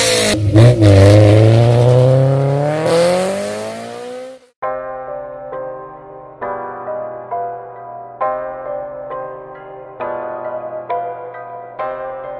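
Honda car engine in The Crew 2 revs hard and climbs in pitch for about four seconds, then cuts to a series of short, buzzy, pulsing engine notes that repeat at a steady rhythm.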